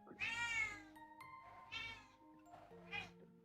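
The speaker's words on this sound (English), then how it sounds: "If you hear cats in the background, those are mine." Several indoor cats meow in drawn-out, wavering calls, about three separate cries over a few seconds, quiet and slightly distant behind a faint steady hum.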